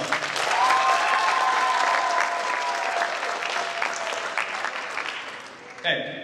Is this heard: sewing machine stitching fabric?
no